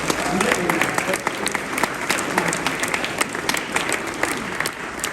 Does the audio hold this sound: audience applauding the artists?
yes